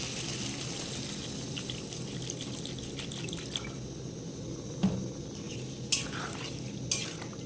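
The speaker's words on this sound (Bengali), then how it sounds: "এখন আমি জল দিয়ে দেবো।" Water goes into a pan of potol and potato curry, bringing soft sizzling and trickling with a few sharp clinks of utensil against pan, close up and fairly quiet.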